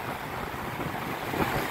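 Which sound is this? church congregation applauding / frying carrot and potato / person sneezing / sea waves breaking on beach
sea waves breaking on beach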